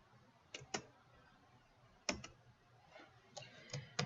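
Mouse clicks on an OK button, sharp double clicks repeated several times in close, quiet pairs over a faint room hiss.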